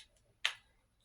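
A single sharp click sounds as a part snaps into place on an AR pistol, close and brief against near silence.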